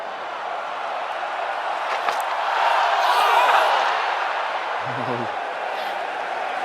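A cricket stadium crowd at an India Test match makes a steady, broad roar that swells for a few seconds in the middle before settling back. Voices rise and fall within the general din.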